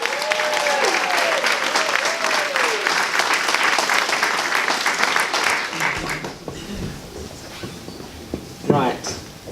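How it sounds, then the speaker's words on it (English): Audience at an International Women's Day event claps in a full, sustained round for about six seconds, then the applause dies away into room noise with a brief voice and shuffling. "So give yourself a round of applause for being a woman."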